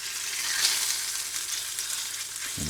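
Sausage patty frying in a pan for a breakfast muffin, a steady bright sizzle running continuously, with a soft knock of the pan near the end.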